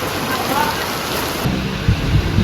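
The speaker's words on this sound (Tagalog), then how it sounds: "Ang ganda na ulan." Steady rain pours down with a dense, hissing wash, a deeper rumble swelling in the second half.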